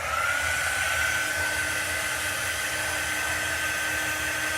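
A hair dryer blows steadily and close by with a constant whine, drying chalk-painted pieces, with no talking over it.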